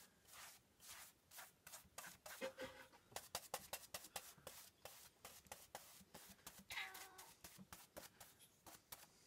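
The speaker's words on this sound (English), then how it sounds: "There's a cat interested in what we're doing here." Cat meowing faintly in a woodworking workshop, a couple of soft cries among steady close rubbing and scratching strokes.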